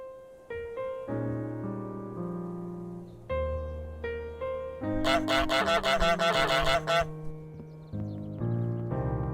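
A cartoon goose honks in Untitled Goose Game as part of a final musical sequence, with short honk bursts stacked over bright sustained game music and a busier flurry of honking in the middle.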